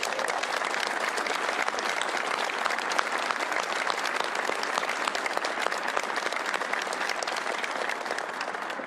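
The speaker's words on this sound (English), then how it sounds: "give them a round of applause" Sustained applause from a large crowd at the rollout of NASA's X-59 supersonic plane, dense steady clapping filling the whole stretch without letting up.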